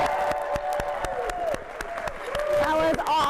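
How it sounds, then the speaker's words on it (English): An audience at a school-district speaker event breaks into applause, scattered sharp claps mixed with cheering and a prominent voice calling out over them, moderately loud. "let's make some noise, give them a big round of applause"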